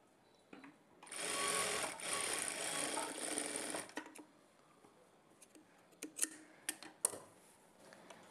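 A sewing machine runs in one steady burst for a few seconds, stitching folded fabric on a blouse, then stops, followed by scattered clicks and handling noises; fairly quiet and close.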